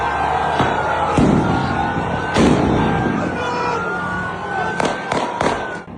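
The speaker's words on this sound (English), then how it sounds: "There you can see someone firing into the air, right? But also fireworks and things like that." Sharp bangs and crackling pops burst repeatedly over a steady crowd murmur in Baghdad, Iraq, as gunshots are fired into the air amid fireworks, with clusters of loud reports near the start, middle and end.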